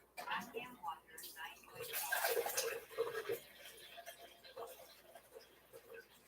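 Water runs from a kitchen tap to measure for soaking soybeans, a brief rushing splash that swells and fades amid quiet, with a voice speaking around it.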